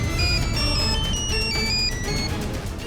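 A phone ringtone plays a bright, repeating electronic melody over a steady background hum, continuous and fairly loud throughout.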